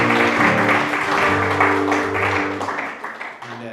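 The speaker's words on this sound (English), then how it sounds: "I think you should give them a round of applause" Festival audience applauds the organisers after a talk, steady clapping carrying through beneath some sustained music-like tones, fading toward the end.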